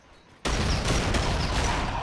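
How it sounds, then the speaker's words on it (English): A Call of Duty Ghosts multiplayer match erupts from near silence into a sudden dense roar of explosions and gunfire that keeps up as a thick, loud wash of blasts and shots. "Just a bunch of explosions."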